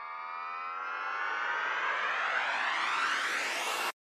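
A reversed swell effect for horror-style music builds steadily in loudness and brightness over about four seconds, a dense rising wash of tones that cuts off abruptly.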